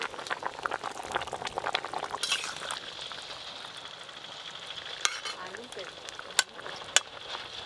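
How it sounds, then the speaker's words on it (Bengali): Vegetables, including eggplant, boiling in water in a pot for a fish curry: soft, continuous bubbling close by, with a few sharp metallic clinks toward the end. "সব সবজিগুলো ভালো করে সেদ্ধ হয়ে গেছে, এবার ঢেলে নেবো।"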